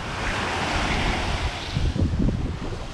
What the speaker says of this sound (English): Look, it's the ocean.